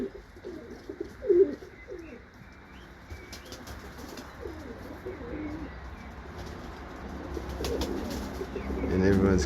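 Soft cooing of doves or pigeons in an aviary, with occasional wing flaps and light chirps, close but gentle, the murmuring coos continuing throughout and swelling toward the end.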